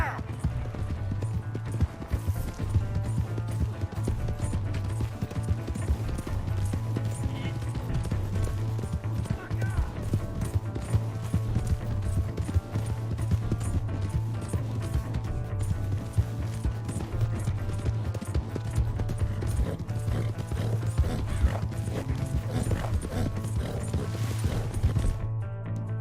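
Horse hooves gallop in a fast, steady clip-clop rhythm in the Western video game Red Dead Redemption 2, with music and voices beneath the continuous pounding.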